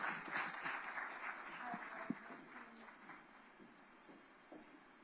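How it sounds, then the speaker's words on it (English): Audience applause for a CEO at a corporate launch event, a faint, diffuse spread of clapping from a crowd that gradually thins out, with a few sharper isolated claps and murmured voices beneath. "you can give him a round of applause"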